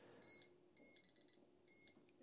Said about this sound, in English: When it detects voltage, here's what you get for an output. It's a two-level audible alarm.